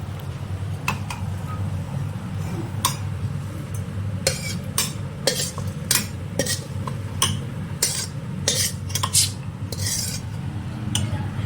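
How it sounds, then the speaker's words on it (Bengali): A spoon clinks and scrapes against metal as dry, fried spices are tipped into a mixer-grinder jar, with several sharp taps over a low steady hum. "এগুলো এবার আমি মিক্সিতে ঢেলে দিচ্ছি"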